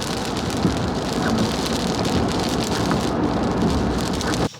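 Heavy rain falling outside, a dense, steady hiss of drops pounding surfaces, loud and unbroken, cutting off abruptly at the end.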